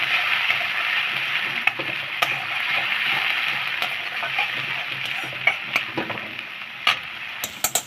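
A paste of onion, ginger, garlic and tomato fries in hot oil in a pan for a keema papad roll, with a steady loud sizzle broken by the occasional scrape of stirring, and no voices.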